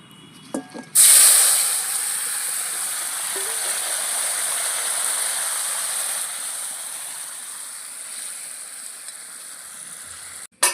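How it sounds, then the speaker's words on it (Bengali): A sudden loud hiss as fish curry hits hot oil with fried cumin tempering, settling into a long, steady sizzle that continues nearly unchanged until a brief clatter at the end. "এবার তরকারিটা ঢেলে দেবো"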